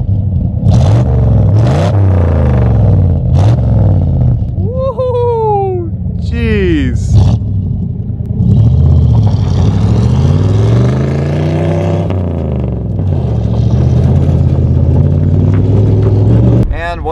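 Truck engine revving hard and accelerating up close, a loud rising and falling roar with people talking and exclaiming over it.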